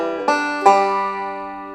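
A short banjo fill-in lick played alone, two quick plucked notes with the last one ringing out on the open first string and slowly fading.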